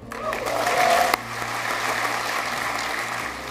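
A crowd applauds at an Army installation redesignation ceremony, with steady sustained clapping that rises slightly and then continues evenly.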